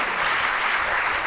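Steady applause from a birthday-event audience at a Rotary speech contest, dense even clapping filling the room throughout.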